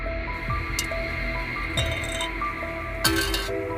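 A piece of aerogel, a solid that is about 99.8% air, is dropped onto a surface several times, making sharp, tinny metallic clinks like an empty can hitting steel, over a low steady background hum.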